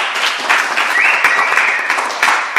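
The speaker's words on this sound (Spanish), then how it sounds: "Fuerte el aplauso para ella." An audience at a magic show applauds a female volunteer coming up on stage, a short burst of dense clapping with a few whoops over it.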